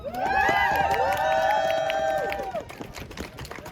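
A crowd at an anti-cuts rally in Cardiff cheers and whoops loudly with overlapping shouting voices and some clapping, the noise peaking early then fading away toward the end.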